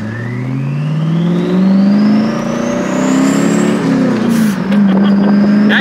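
A twin-turbo C5 Corvette engine revs loud and close, pitch climbing steadily then dropping briefly before surging again, with a whooshing turbo whine over the top.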